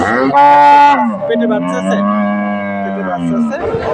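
A cow lets out a long, loud, close moo at the Alamdanga cattle market in Bangladesh, its low drawn-out call filling most of the moment.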